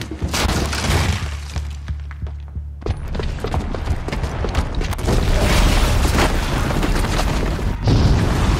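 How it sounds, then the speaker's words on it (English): A bomb blast in Horizon Zero Dawn sets off a long rolling boom with shattering, crumbling debris, opening with a low rumble before a sudden heavy burst and sustained loud thudding destruction. "the booby trap on the bomb downstairs is gonna get set off"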